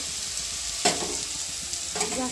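Mushrooms frying in a pan with salt and turmeric, a steady close sizzle with two sharper bursts as they are stirred, no talk.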